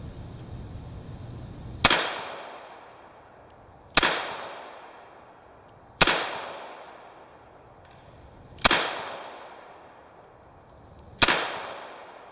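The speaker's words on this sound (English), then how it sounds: "The first shot that I fire out of the 5 will be single action, and the rest, the other 4," Five sharp, loud Ruger LCRx .38 Special revolver shots fired outdoors, evenly spaced about two seconds apart, each a crisp crack followed by a short decaying echo, with no talking.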